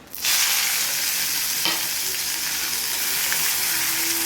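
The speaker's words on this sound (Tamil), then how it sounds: "வெங்காயம் வதங்குறதுக்கு உப்பு சேர்த்துக்கலாம். வெங்காயம் வதங்கிச்சு" Onions and curry leaves sauté in hot oil with dried chillies and asafoetida, a loud, continuous close sizzle that starts abruptly, with one sharp stirring clack partway through.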